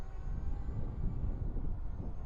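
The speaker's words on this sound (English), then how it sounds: "Now there's a big gust of wind" Steady wind buffets the microphone of a JJRC X12 Aurora drone in flight, a loud, low rumble that keeps going with no talk over it.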